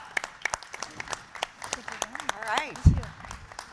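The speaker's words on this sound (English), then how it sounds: "Thanks everyone, give them a huge round of applause." Audience members at a mayors' conference plenary clap for a panel, a thin scattering of separate claps beneath someone speaking nearby.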